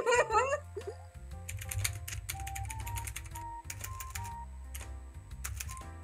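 Vigorous typing on a computer keyboard, a rapid run of clattering keystrokes carried on steadily for several seconds, with a brief burst of voice right at the start.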